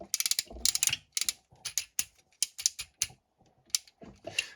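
Ratchet joints on a Transformers Bayverse action figure click in quick, sharp bursts, a close series of dry plastic ticks with brief pauses between groups, and no talking.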